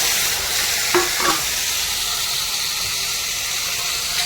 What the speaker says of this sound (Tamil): வெங்காயத்தை போட்டு வதக்குவோம்